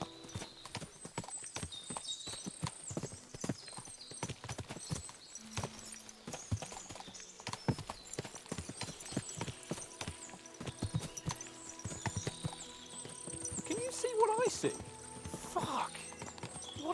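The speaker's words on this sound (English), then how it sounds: "What a lot of horses! They must have cost a fortune." Rapid hooves clip-clop steadily on hard ground in the video game Kingdom Come: Deliverance II, several horses moving together, with an occasional whinny and voices talking over them.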